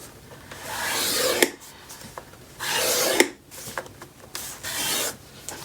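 A score tool drags hard along paper for a mini album, giving three distinct scratchy rasping strokes close up, each about a second long, with small taps between them.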